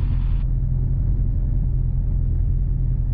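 A Piper Super Cub aircraft engine runs at about 1200 RPM, a steady close rumble that goes on without a break, with a brief high hiss at the very start.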